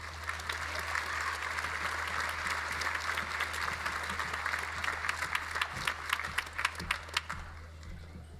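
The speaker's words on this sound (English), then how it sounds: "It seems like she's got a cheering section as well" Applause with scattered cheers from the audience at a university commencement ceremony, a steady wash of clapping that swells toward the end with sharper individual claps and whoops standing out.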